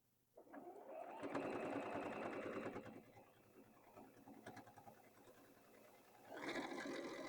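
A sewing machine stitches a quilted sweatshirt sleeve in two loud, steady runs of rapid needle strokes, with a quieter, uneven stretch of handling between them and no talk.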